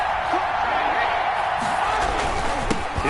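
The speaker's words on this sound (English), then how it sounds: "That just means this crowd's going to get even louder" Steady, dense roar of a stadium crowd in the Madden NFL football video game, loud and continuous with occasional thuds and whoops under it.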